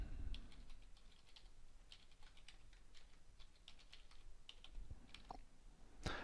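Rapid, light clicking of computer keys as an email address is typed, a quiet, close run of uneven taps with brief pauses and no voices.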